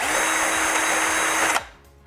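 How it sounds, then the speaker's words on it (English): A power drill bores a 3/16 hole through a plastic bottle cap, whining loud and steady for about a second and a half before cutting off abruptly and spinning down. "Keep the cap on the bottle so you can hold the bottle when you're drilling your hole."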